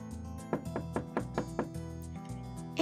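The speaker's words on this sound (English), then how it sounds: "there was a knock at the door" Knocking at a door in a storytelling reading of The Wind in the Willows: about six evenly spaced, moderately loud raps over a sustained musical backing.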